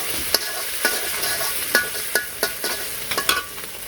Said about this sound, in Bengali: মশলাগুলো ভালো করে কষিয়ে নিই